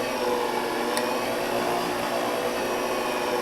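An electric mixer on slow speed gives a steady, even motor whir that holds at a constant level throughout, with no talking.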